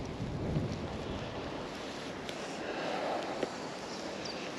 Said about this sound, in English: it's a fair wind blowing down